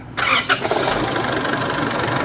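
An Isuzu D-Max 2.5 pickup truck diesel engine cranks briefly and catches, then settles into a loud, steady idle rumble close by.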